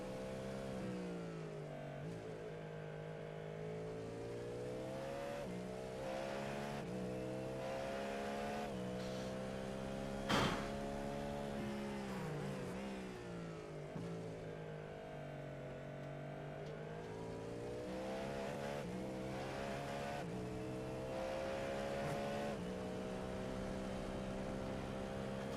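A race car engine at the Nurburgring in a racing video game drones and rises and falls with throttle changes, a continuous tonal whine with hesitant revving and one brief sharp knock midway, no talking over it.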